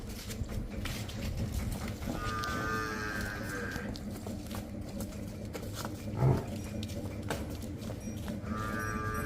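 A dairy buffalo lows a few times against a noisy, busy farmyard background, with steady rustling and clatter throughout.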